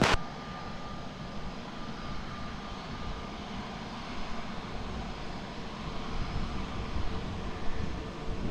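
Embraer 190 jet rolling on the runway at Lisbon Airport, a continuous moderate engine rumble and hiss, fairly distant and steady with slight swells, no talk.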